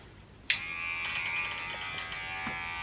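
Hair clippers with the lever set all the way down switch on suddenly and keep up a steady, close electric buzz during a self haircut, the tone wavering slightly as the blades move through hair.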